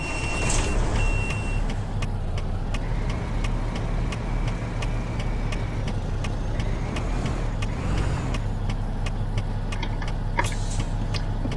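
A heavy truck engine rumbles steadily and loudly in American Truck Simulator, with reversing beeps sounding at intervals over the continuous low drone; there is no talking.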